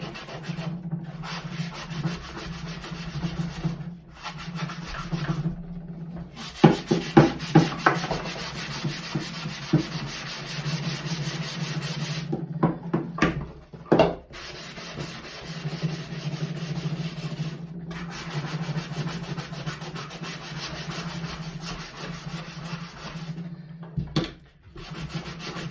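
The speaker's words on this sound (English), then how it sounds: "So the more you sand, the more you'll see that brown start to show through." Painted wood being sanded by hand makes a steady, close scratchy rubbing, with a burst of quick rhythmic strokes partway through and brief pauses between passes.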